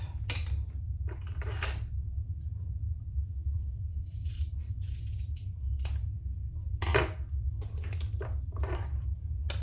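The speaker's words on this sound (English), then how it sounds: "And then we're going to cut that off." Backpack material being trimmed with scissors over a steady low hum: a handful of sharp snips and rustles, spread irregularly and close by.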